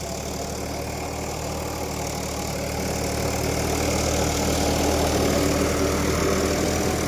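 Straining under a heavy load in a farm field, a Swaraj 744 XT 4WD tractor engine keeps up a thick, steady drone that builds in strength midway and stays loud and close, with no talking.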